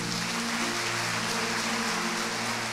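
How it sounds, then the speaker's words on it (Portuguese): A church congregation applauds the Lord during an evening service, a dense, steady wash of clapping from many hands that fills the hall without pause, with a faint sustained hum underneath. "Dê um aplauso ao Senhor."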